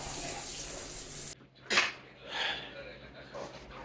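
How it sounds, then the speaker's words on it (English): A weak hotel shower running in Benidorm, a thin hiss of water that cuts off abruptly and then returns in softer splashes and trickles, fairly close. "Okay, that's not a very powerful shower."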